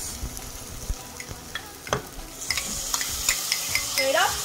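Tomatoes go into a sizzling pan of green gram (moong dal) soup base and get stirred: a continuous fry hiss broken by sharp spatula scrapes and clinks, the sizzle swelling louder toward the end.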